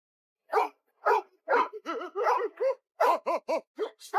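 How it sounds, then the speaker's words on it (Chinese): A dog barks repeatedly aboard a moving train, a string of about ten sharp, clear barks with short gaps, close and loud, with no other sound between them. "突然，他们听到了狗叫声"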